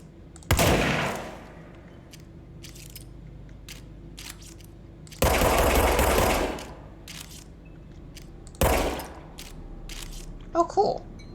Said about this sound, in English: I'm guessing this is a shotgun then